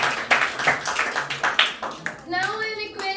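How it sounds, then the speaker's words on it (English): Audience claps for a winning team at a Science Day event, a burst of scattered handclaps close by mixed with crowd murmur, then giving way to a sustained tonal sound near the end. "please give a huge round of applause for them"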